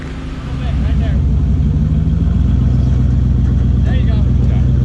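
Chevrolet Suburban engine rumbling and revving as it climbs a rocky off-road obstacle on the Steel Bender trail in Moab, a loud, steady, close low drone with people talking over it.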